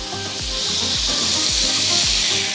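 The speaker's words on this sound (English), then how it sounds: "a little bit of sesame oil, and again, a little bit of garlic puree in there. Sizzle." Steady, loud sizzling of sesame oil and garlic puree frying in a hot pan, with occasional scraping and stirring sounds underneath.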